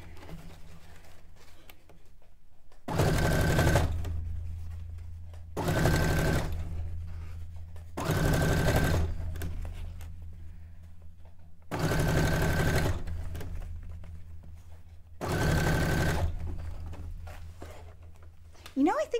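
A sewing machine stitching a cone-shaped cape runs in five short bursts of about a second each, separated by pauses, close and clear, while a person talks quietly in between.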